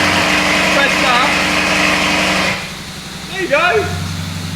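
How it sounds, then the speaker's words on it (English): A Lamborghini Urus engine runs without its exhaust fitted, a steady whirring idle close by that drops quieter partway through, with people talking over it. "Is that noise just the engine?"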